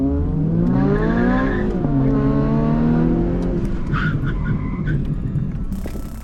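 An old Honda-powered classic Mini and a new turbocharged Mini accelerate hard off the line in a drag race, engines roaring loud and close with rising pitch through gear changes, then easing slightly near the end.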